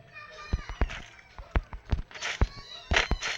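Several short cat meows come in quick succession, close by, with children's voices chattering softly in the background.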